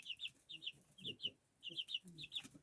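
Two-week-old chicks give a run of thin, high peeping clucks in short bursts of two or three, close by and fairly soft, with faint low rustling beneath.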